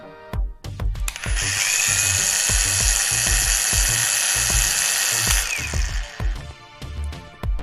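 A high-pitched Profitec AG 125 1800 angle grinder with an 1800 W brushless motor whines steadily for several seconds, loud and close, with repeated low thumps beneath it before it spins down.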